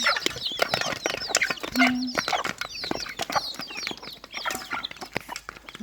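A flock of chickens and roosters busy with feed clucks and squawks nearby, with overlapping calls, scratching, and a brief flutter of wings.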